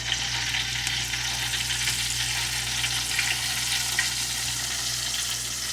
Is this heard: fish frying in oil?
yes